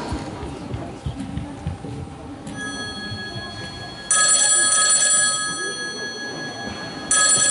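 A mobile phone rings during a Family Day stage performance of Little Red Riding Hood, two bright electronic ringing bursts that start abruptly and cut through a noisy, rumbling background, the second beginning after a short gap.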